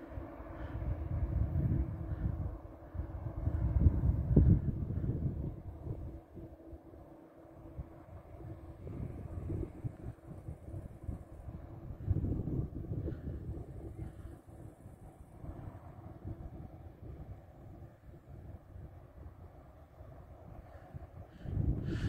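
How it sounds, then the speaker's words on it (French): Wind buffeting the microphone on the Étretat cliffs by the sea, low rumbling gusts that rise and fall throughout, strong at times and steadier in between, with no speech. "I'm sorry about the wind, it's a little bit windy"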